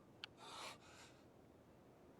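Faint heavy breathing from the character James in the video game Silent Hill 2: a soft intake followed by a longer, raspy exhale, quiet and alone.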